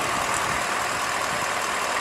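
A 2018 Ford F-150 with a 5.0-liter V8 idles in a steady, even rumble, moderately quiet and unbroken, with no talking.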